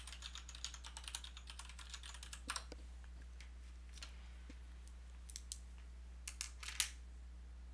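Quiet, rapid typing on a Kinesis keyboard with a Dvorak layout, soft key clicks in irregular bursts over a low steady hum, no voices.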